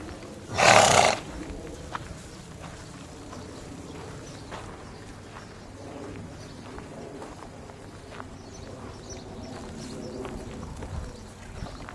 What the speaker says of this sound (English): We have the donkeys and the Premarin, a couple of our Premarin mares.